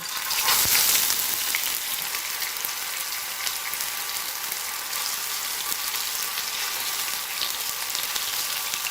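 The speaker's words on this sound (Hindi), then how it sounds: "एक मीडियम साइज़ का टमाटर लिया है और गोल शेप में मैंने इसे काट लिया है। अब मैं इसे भी फ्राई कर लेती हूँ।" Round slices of a medium tomato fry in a pan with a steady, bright sizzle. A louder burst comes in the first second, when they hit the oil, then the sizzle holds even with no talk.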